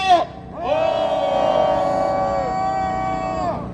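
A crowd at a protest press conference in front of the National Assembly, denouncing Coupang accounting fraud, raises a loud sustained collective shout lasting about three seconds after a brief call.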